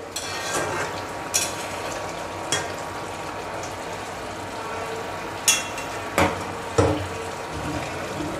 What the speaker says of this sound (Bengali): ইলিশ মাছের মাথা খুব ভালোভাবে ভুনে নিলাম।